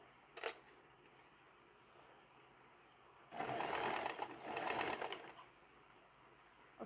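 A sewing machine stitches a pajama leg in a short burst of about two seconds, preceded by a brief click and otherwise quiet room tone.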